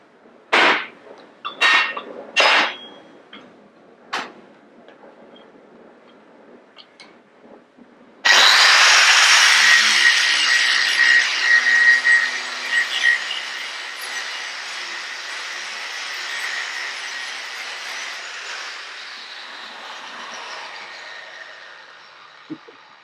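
A few sharp taps, then a brand-new Mattox multi-use disc on an angle grinder spins up abruptly and bites into wood with a loud, harsh, whining roar that carries on steadily and eases slightly toward the end.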